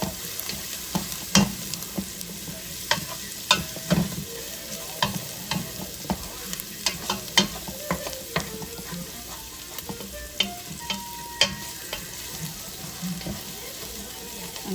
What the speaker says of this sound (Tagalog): Halo-haloin lang natin hanggang sa mangamoy yung bawang natin.